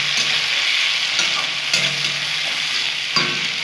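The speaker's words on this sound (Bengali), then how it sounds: "এটা দিয়েও আমি ভালো করে নাড়িয়ে নেব।" Tomatoes, green chillies and eggplant sizzle steadily in a pan while being stirred, a continuous close fry broken by a few spatula scrapes and knocks, no talking.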